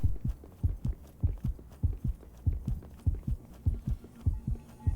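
A heavy heartbeat pulses in the horror game Simulakros, a regular double-thump rhythm repeating about twice a second, low, booming and close over a faint hum.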